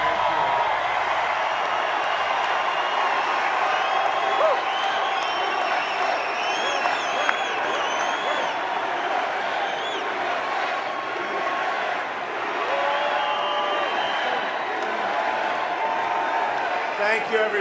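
A large political rally crowd applauds, cheers and whoops steadily as the President of the United States mounts the stage, a dense continuous roar with scattered shouts throughout.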